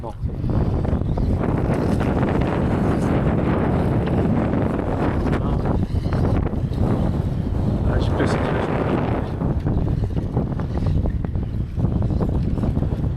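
Strong wind buffets a microphone outdoors at a remote-control car rally track, a constant loud rumbling roar with gusty surges that never lets up.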